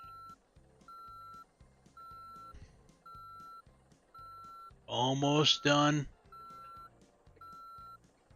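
A reversing bus in Motor Town beeps over and over in a steady electronic rhythm above a low engine drone, and someone speaks briefly over the beeps partway through.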